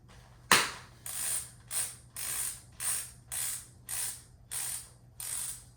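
Ratchet strap tightening on a Burton Step On snowboard binding, a sharp initial click followed by about eight rhythmic ratcheting clicks at an even pace, close and alone without talk.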